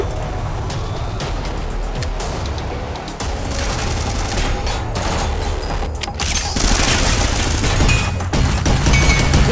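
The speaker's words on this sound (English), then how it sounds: "Or I could just shotgun him." Heavy shotgun blasts and chaotic combat noise in the co-op roguelite shooter Synthetik, loud and continuous with repeated booming shots layered over constant action.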